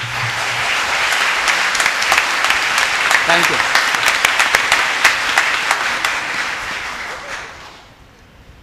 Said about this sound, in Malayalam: നിങ്ങൾക്ക് കൈയടിച്ചെന്ന് കാണിക്കാം